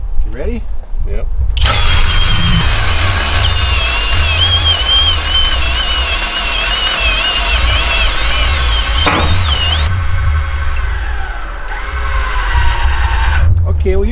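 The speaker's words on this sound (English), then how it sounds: "My son's going to run the electric jack that's on a trailer, and I'm going to run the Kwick Kranker" An electric trailer jack and a Kwick Kranker drill-driven jack raise a tilt dump trailer: loud, close, steady motor whine with mechanical grinding runs nearly the whole time, shifting pitch midway, brief pauses at start and end.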